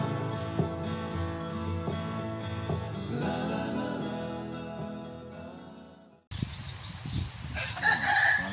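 A rooster crows with chickens clucking at an island home, the calls mixed with a sustained tonal background before an abrupt cut to noisier outdoor sound with scattered clucks.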